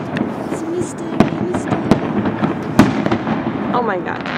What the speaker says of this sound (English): Oh my god, more fireworks.